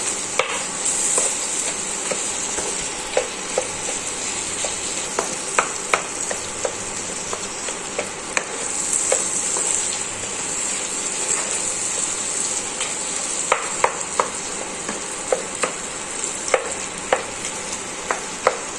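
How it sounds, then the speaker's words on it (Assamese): Ground spices with nigella and fenugreek seeds dry-roasting in a pan for an olive pickle, a soft continuous sizzle broken by frequent scraping strokes of a spoon stirring against the pan bottom, close and moderately loud. "তেনেকৈ লাহে লাহে লৰাই লৰাই মই ভাজি থাকিম তলত নলগাকৈ।"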